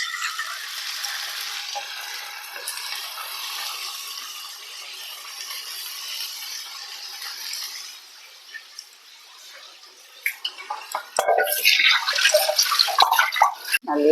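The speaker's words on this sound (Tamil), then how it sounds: "நல்லா வதக்கி கொடுங்க." Chicken sautéing in oil in a pan with ginger-garlic paste gives a continuous sizzle, quieter midway, then louder bursts of crackling and stirring near the end.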